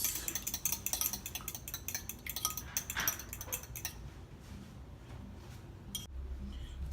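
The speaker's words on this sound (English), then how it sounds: "Don't forget to go ahead and whisk your eggs." A whisk beats eggs in a bowl, rapid close clinking and tapping that starts busy and loud, then thins to sparse taps and fades.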